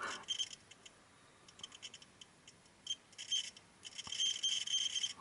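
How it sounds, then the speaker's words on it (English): Faint, intermittent electronic beeps and buzzes from a cheap Aneng multimeter's continuity buzzer start and stop irregularly against soft handling clicks and scratches, growing more sustained toward the end. "Let's have a look at the buzzer."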